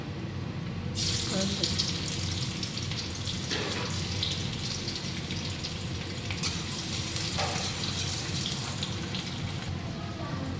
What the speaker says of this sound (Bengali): টমেটো কুচি, পেঁয়াজ কুচি, এটা হচ্ছে ক্যাপসিকাম। এগুলো আস্তে আস্তে সব ভেজে নেব।